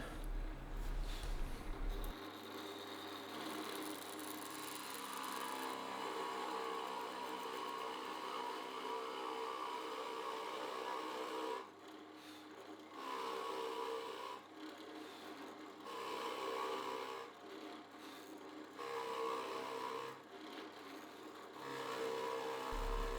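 A drill boring through pine pallet wood, a steady grinding rasp that runs continuously with a few brief dips as the bit works through the board, close and fairly quiet with no talking.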